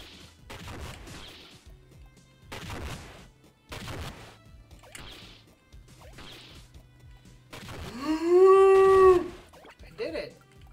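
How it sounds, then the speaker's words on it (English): Loud video game crash noise resembling a vacuum cleaner running over its own cord in Iconoclasts, a rising warbling tonal sweep of about a second following stretches of speech, with a brief tail after. "That was the sound of a vacuum cleaner that ran over its own cord."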